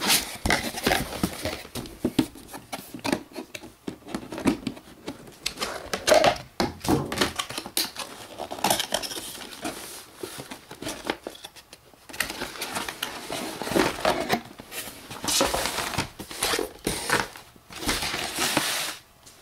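Computer motherboard being unboxed, with packaging handled in close, irregular bursts of crinkling, tapping and rustling that continue without talk.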